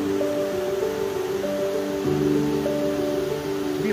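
A waterfall in Glamis Woods roars as a steady, continuous rush of water, with a faint tonal hum running through it and no voices.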